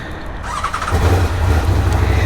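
An Aprilia RSV4 1100 Factory motorcycle with an SC-Project exhaust fires up into a loud, close engine roar that swells after a brief quieter moment and holds steady.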